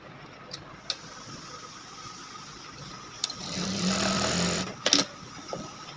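A single-needle industrial sewing machine runs threaded, a steady mid-pitched mechanical whir that swells for a couple of seconds. Sharp clicks and taps come before and after over low background hum.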